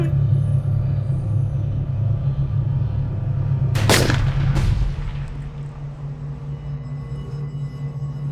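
Gunshots ring out in a Bengali feature film scene, two sharp loud bangs a moment apart over a steady low rumbling background, with the echo fading afterward.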